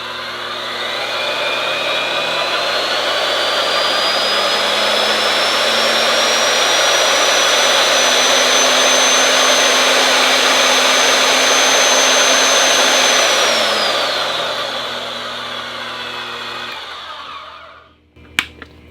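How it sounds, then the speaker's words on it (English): A Vevor magnetic drill motor runs steadily at speed for about fifteen seconds with a high whining tone, then winds down and stops, followed by a couple of faint clicks. "here is the variable speed for the drill"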